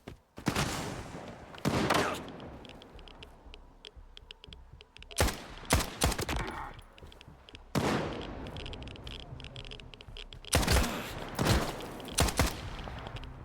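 Enemy gunfire in S.T.A.L.K.E.R. 2: Heart of Chernobyl, with loud sharp bursts of shots arriving in several separate clusters and quieter gaps between them.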